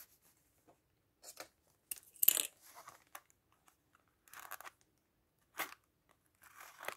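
A package of paper chipboard die cuts being opened by hand, with scattered bursts of crinkling, tearing and rustling plastic separated by quiet pauses, close and fairly soft.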